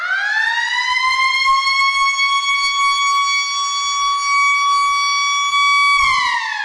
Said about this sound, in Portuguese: Ou uma sirene, que parece mais um anúncio de guerra.